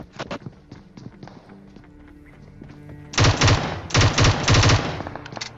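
Gunfire rings out in a PUBG Mobile match: scattered single shots and light clatter early on, then loud rapid bursts of automatic fire in several close clusters.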